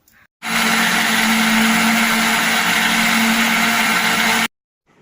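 A kitchen mixer grinder grinds soaked rice and cooked rice with water into batter, a loud steady whirring motor that starts abruptly, runs without pause for about four seconds, then cuts off.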